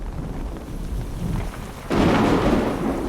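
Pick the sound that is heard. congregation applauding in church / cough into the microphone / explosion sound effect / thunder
thunder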